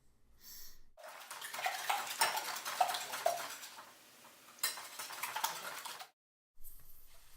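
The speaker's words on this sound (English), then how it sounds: "Once the eggs are whisked," Eggs being whisked in a bowl: a steady run of quick clinks and scrapes against the bowl, pausing briefly midway and stopping near the end, close and moderately loud with no talking.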